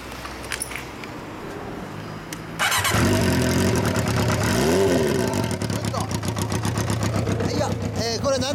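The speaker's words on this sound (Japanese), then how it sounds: "エンジン音聞かせてもらえる？" A 2004 Kawasaki ZRX400 motorcycle with a Daishin exhaust starts up after a few quiet seconds, then runs loud and close with a raspy idle and throttle blips. People talk over the engine noise.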